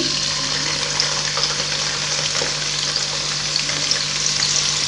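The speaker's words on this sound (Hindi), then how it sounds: "इसको भी लाइट पिंक होने तक हम ऐसे ही फ्राई करेंगे।" Two medium onions sizzle and fry steadily in hot oil for a Hindi-style arbi gosht curry, a constant close crackling hiss with a low hum beneath and no talk.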